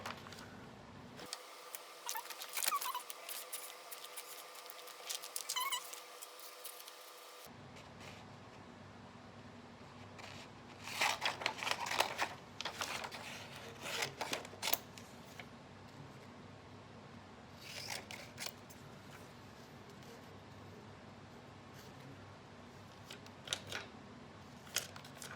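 Scissors cutting catalog paper: scattered crisp snips and paper rustles, clustered in a few short bursts against a quiet room background.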